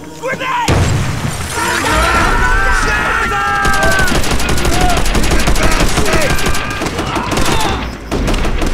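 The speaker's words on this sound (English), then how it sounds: "Grenade!" In Call of Duty: World at War, a sudden blast erupts and is followed by dense, rapid gunfire and shattering debris, all loud and close for several seconds, with voices shouting over the combat.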